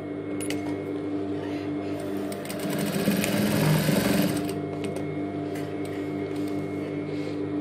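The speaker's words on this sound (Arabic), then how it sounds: "طبعا انا حضرت ماكينة الاوفر على الماكينة" An overlock sewing machine stitches fabric for a dress at a steady, fast whirring rhythm, close and moderately loud, swelling briefly midway with no talk.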